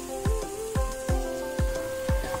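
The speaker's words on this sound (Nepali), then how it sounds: "आज हजुरहरूमा असिना परेको भिडियो लिएर आएको छु।" Hail and rain fall during a storm over wheat and pulse crops. Sharp knocks strike at a regular pace over a steady patter, with a faint hum underneath.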